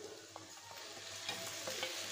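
Mutton goes into a hot pan with pepper and spices and gets stirred, a soft, low sizzle with faint scraping strokes of the spoon.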